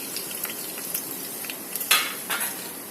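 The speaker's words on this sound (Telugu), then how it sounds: "ఫ్రెండ్స్ ముందుగా పచ్చిమిరకాయలు వేసేస్తున్నాను అన్నమాట ఫ్రైకి" Green chillies fry in a pan with a steady, close sizzle. A few brief clinks and stirs can be heard partway through.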